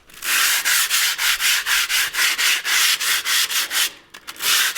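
An old family barbecue grill grate is sanded by hand, loud rhythmic strokes repeating in a steady back-and-forth about three times a second, close up with no talking.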